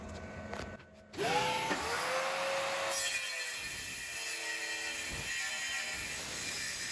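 A CNC router cuts into wood after a short spin-up whine, then gives a loud, steady rasping roar with tonal hum from the spindle, close by and running on.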